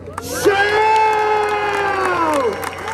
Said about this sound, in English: I'd like to welcome to the stage with a thunderous round of applause